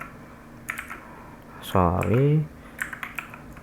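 Keys clatter on a computer keyboard as JavaScript code is typed, a few light clicks at close range interrupted by a brief spoken voice in the middle.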